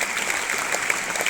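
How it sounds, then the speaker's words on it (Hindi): Schoolchildren at a school assembly clap loudly together, a brief dense burst of applause close by. "इन 20 बच्चों के लिए जोरदार तालियां बजाओ"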